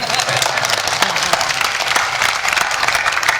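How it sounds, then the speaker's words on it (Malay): An audience at a political rally in Kedah breaks into applause, a dense continuous wash of clapping from a large crowd with voices mixed in underneath. "Tepuk tangan lagi."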